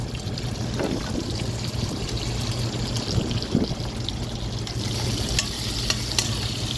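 Brinjal, drumstick and plantain pieces sauté in hot oil for a tamarind curry, giving a steady close sizzle broken by occasional stirring scrapes, with no talking.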